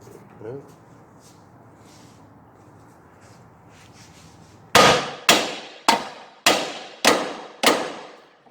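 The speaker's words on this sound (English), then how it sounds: "flip the knuckle forward that way and give it a couple smacks right there really good" Six loud, ringing hammer smacks strike a steel steering knuckle on a BMW E36 during a steering angle lock kit install, evenly spaced about half a second apart after several seconds of quiet shop ambience.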